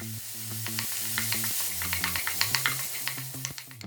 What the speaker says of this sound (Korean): 마늘이 색깔나면 썰어놓은 양파, 당근, 표고버섯 넣고 볶아서